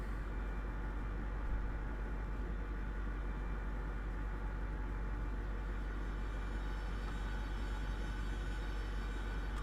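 A train locomotive in Train Simulator 2017 brakes into a station, heard as a faint, steady rumble and hiss with low droning throughout.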